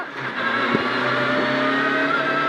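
A rally car engine roars at full throttle with wheels spinning on a stage road, a loud, sustained, close in-car drone that holds steady throughout.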